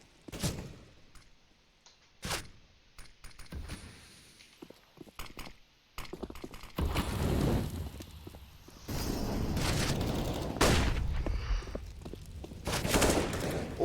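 Gunfire from a Counter-Strike esports semifinal match, with scattered sharp single shots early on, then denser, louder bursts of rifle fire and in-game action building up alongside ambient game noise.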